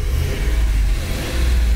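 A V8 car engine runs smoothly on all eight cylinders after new Bravex coil-over-plug ignition coils are fitted, a steady low rumble heard from nearby with no talk.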